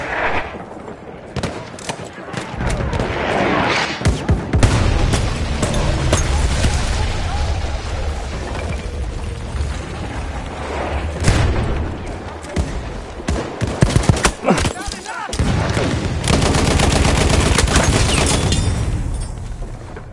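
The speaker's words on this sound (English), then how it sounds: "The enemies are being halted by our artillery barrage." Battlefield 1 artillery barrage with dense gunfire, booming shell impacts and rattling shots layered continuously and loudly throughout, with a brief lull near the end before the barrage swells again.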